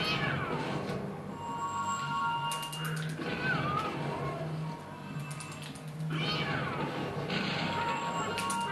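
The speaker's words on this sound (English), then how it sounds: "Yes, Weber has only 3 cats" Cats meowing in The Simpsons Game video game, several short mewing calls rising over a steady, busy game soundscape, with no talk.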